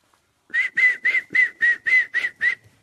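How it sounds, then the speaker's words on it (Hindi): A person whistles a run of nine short, even, sharp toots in a steady rhythm, loud and close, with no talking over it. "केवल एक सीटी मारी।"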